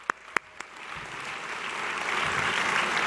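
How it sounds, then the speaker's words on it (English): Several sharp claps ring out, then a conference crowd's applause swells into a steady, building roar that continues to the end. "Let's hear a round of applause for that."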